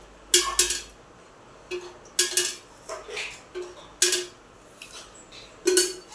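A metal spoon tapping and clinking against a heating cooking pot as spoonfuls of oil are added, sharp bright clinks in small clusters repeated several times, close and otherwise quiet.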